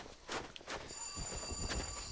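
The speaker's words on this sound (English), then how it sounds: "Ah, there's the phone." A telephone rings in the Dark Souls video game, a thin electronic tone sounding over muffled footsteps and ambient game noise, fairly faint and lasting about a second.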